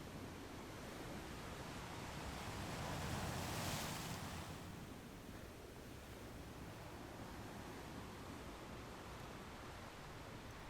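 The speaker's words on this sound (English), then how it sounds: "Typical wave action over in this area on the East Coast." Surf rolling onto an East Coast beach at Melbourne Beach, a steady broadband wash with one wave swelling and breaking more loudly near the middle, rough water with no talk over it.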